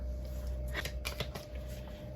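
Tarot cards being shuffled by hand, a run of soft papery riffles and flicks close up over a steady low background hum.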